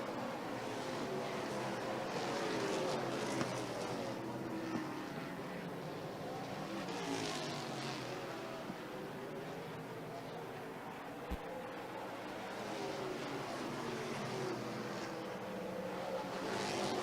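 NASCAR Pinty's Series stock cars lap the Autodrome Saint-Eustache oval during the Lucas Oil 250, their engines a continuous roar and whine rising and fading as the field passes, with a commentator talking over it throughout.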